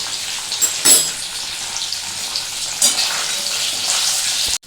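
Katla fish fries in a pan with a steady, bright sizzle and crackle, loud and close, broken by a few sharper spatters and bursts.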